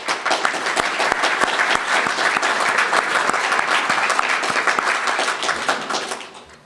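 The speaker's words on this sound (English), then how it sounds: "Please join me in offering an appreciative round of applause to our spring quarter sponsors" A City Club luncheon audience gives a sustained round of applause for its sponsors, dense clapping with a few sharp near claps that tapers off at the end.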